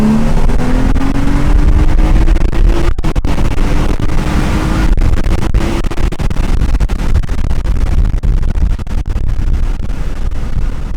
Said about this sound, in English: so you guys can hear the exhaust and hear it shift